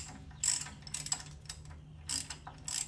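A ratchet wrench loosening a nut from a carriage bolt on a 1947 GMC truck during a spring and axle swap: short bursts of rapid clicking pawl action, several separate strokes, close and fairly quiet, no talking.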